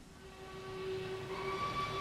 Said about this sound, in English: viewers can hear a field recording from the 1950s of a freight train making its way up a mountain at night, done by the photographer O. Winston Link